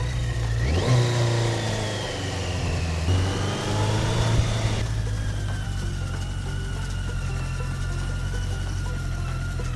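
A BMW K100 motorcycle that had not run since 2007 idles and revs hard, its engine pitch rising and falling through two loud throttle blips before settling into a steady, close idle with no talk.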